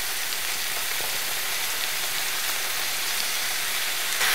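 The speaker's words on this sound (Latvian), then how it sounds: "Cepot dārzeņus pievienoju sojas mērci un kādus 4 ēdamkarotes." Vegetables fry in a pan with soy sauce added, a dense, steady sizzle that holds loud and close throughout with faint crackles, no voices.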